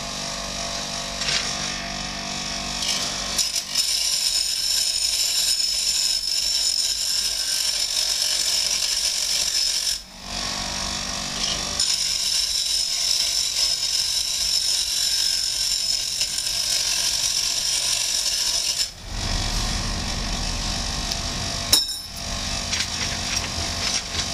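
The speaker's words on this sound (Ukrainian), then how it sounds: "Пізніше беремо точило, обточуємо кінці." A bench grinder grinds the ends of wooden blanks for a plant stand, giving a steady, loud motor whine with grinding noise that runs almost without a break and dips briefly twice.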